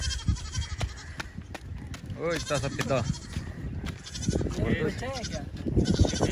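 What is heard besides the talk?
goat bleating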